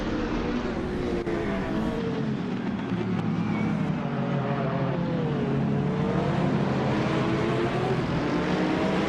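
A pack of race cars, led by a 2016 Porsche 911 GT3R, roars off the start at Istanbul Park in a racing video game, a steady dense engine drone with rising and falling revs throughout.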